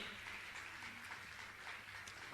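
Steady applause from a seated audience at a Jain religious discourse gathering in a hall, a continuous dense patter of clapping throughout with no voices over it.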